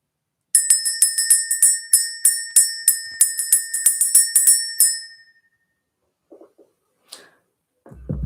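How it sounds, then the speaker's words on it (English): A small bell rung to clear energy strikes rapidly again and again for about five seconds, bright and ringing, each hit decaying quickly, before it stops and a few faint clicks and taps follow. "We're going to ring this bell"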